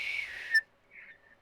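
A person whistles in imitation of a character's signal whistle during a tabletop roleplaying session, a short sustained tone sliding downward and ending in a sharp peak, then a faint brief second whistle, with no talk.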